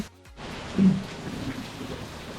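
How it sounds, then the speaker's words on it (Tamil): Heavy rain falls steadily along the Gudalur to Masinagudi route near Ooty, a dense continuous hiss with a low thunder rumble rising briefly early on. "அங்கே விட இங்கே வந்து நல்ல மழை வருதுன்னு நல்லா தெரியுது"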